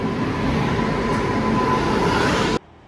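A train on the way to Vizag rumbles past loudly and steadily, with a faint sustained horn tone running through the clatter, before the sound cuts off abruptly.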